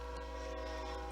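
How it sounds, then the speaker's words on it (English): A passing train heard indoors, a steady loud low rumble with sustained tonal hum, close and continuous. "sorry about the train, it's a little loud."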